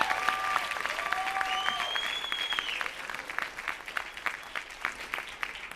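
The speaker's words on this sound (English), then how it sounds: "Give a round of applause for Kathy Garcia." An audience applauds at a mayoral reception, a loud burst of clapping that thins to scattered claps, with a few whistles or cheers rising above it early on.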